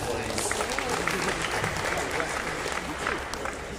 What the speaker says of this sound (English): Give your guys a round of applause, because that's awesome.